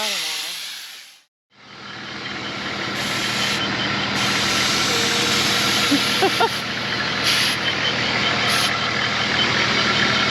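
A 4WD vehicle crawling slowly over a rocky, washed-out track in Purnululu National Park, a loud steady engine drone and road rumble heard from inside, with a brief dip at the start and faint knocks along the way.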